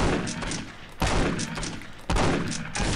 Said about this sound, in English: It's not hard for you to fucking die when I'm shooting you with a shotgun.